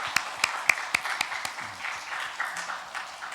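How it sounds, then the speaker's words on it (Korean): A congregation at a Sunday church service claps in a few sharp, sparse bursts that trail off into scattered, faint claps, with murmuring in the room. "우리 박정님 성도님 은혜 감사해서 섬기니까 큰 박수로 박수하겠습니다."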